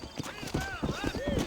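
Horse hooves clip-clop in a steady walking rhythm in the Western game Red Dead Redemption, riding out of a frontier town in New Austin, with a voice talking over the hoofbeats.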